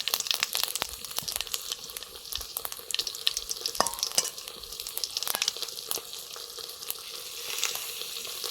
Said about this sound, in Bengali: ডালে ফোড়ন দিয়ে দেবো সর্ষের তেল দিয়েছি কড়াইটা